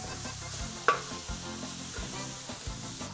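Onion frying in a pan for a campfire-style paella: a steady bright sizzle with soft scraping and stirring strokes at an even rhythm, fairly quiet and close, with no talking.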